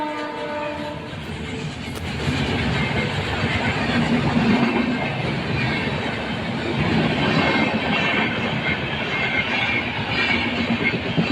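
A train crossing an open railway level crossing, rumbling past close by with a sustained clatter of wheels over the rails and a short horn blast near the start.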